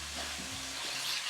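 Ground beef for ragu sauce fries in a pan, a steady, quiet sizzle with soft stirring underneath, with no talking.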